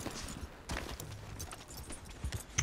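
Horse hooves clip-clop in the video game Red Dead Redemption 2, a quiet, uneven patter of steps on the ground with faint background ambience and no talk.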